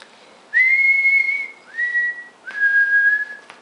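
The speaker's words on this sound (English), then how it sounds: "Everybody always wants me to whistle, so here. This is my whistle today." A person with Bell's palsy whistles three sustained, steady notes, each held and separated by brief pauses, clear and close with no other sound.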